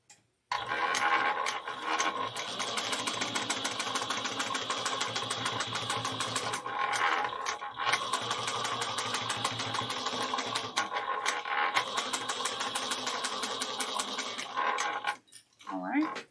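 A sewing machine runs steadily for about fifteen seconds while stitching a quilted shoulder bag, a close, fast mechanical whir and tick that stops near the end.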